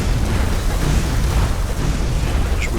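Explosions erupt during a crowded video game battle as loud, continuous rumbling booms that overlap into one heavy, sustained roar, close and dominant with no speech.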